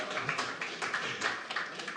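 A handful of people clap their hands in a quick, uneven burst of short claps, fairly close and light, as a small round of applause.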